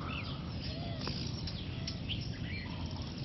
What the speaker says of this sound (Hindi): और ध्यान से सुनेंगे तो चिड़ियों की आवाज़ आ रही है।